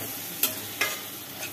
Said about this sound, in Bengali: ঢাকনাটা খুলে একটু নেড়েচে দেওয়া হচ্ছে ভেন্ডি আলু